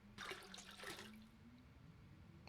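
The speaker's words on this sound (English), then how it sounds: "So we'll take the toilet water" Toilet water being drawn in The Long Dark, a short, quiet splash and trickle lasting about a second, followed by faint low ambience.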